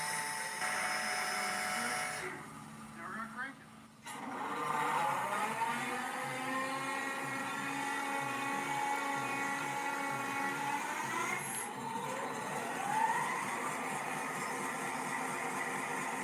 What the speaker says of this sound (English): That's the sound of an EMD starting up.